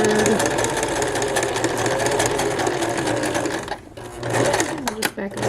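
Sewing machine running steadily while stitching a horsehair hem on a formal dress, a loud close whir that pauses briefly for a back stitch and then starts again.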